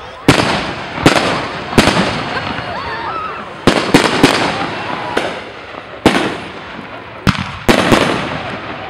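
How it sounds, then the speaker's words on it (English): Fireworks burst over Santa Barbara with about a dozen sharp, loud booms at irregular intervals, each followed by crackling decay. A crowd murmurs and talks in the background. "as the fireworks majestically filled up the Santa Barbara sky"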